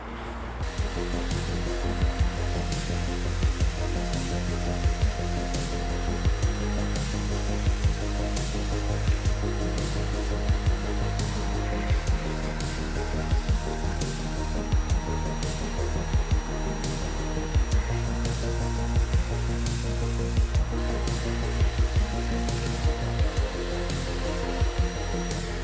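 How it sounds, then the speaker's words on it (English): Steady, continuous sanding of the faces of a Rhombic Triacontahedron Petaminx puzzle, a dense rasping hiss with small rhythmic pulses that runs unbroken and close throughout. "I have to very incrementally sand little bit by little bit."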